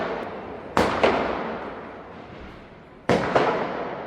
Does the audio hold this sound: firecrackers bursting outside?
yes